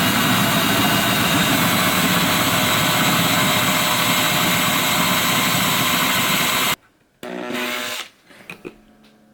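A power drill bores through the wood of a guitar body with a loud, continuous high whine for several seconds, then cuts out suddenly, followed by a couple of short bursts as the trigger is squeezed again.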